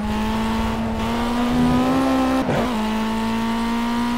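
A race car engine in the video game Project Cars drones at a steady high pitch, heard from inside the car, rising slightly as it revs, with a brief shift-like dip midway, loud and close.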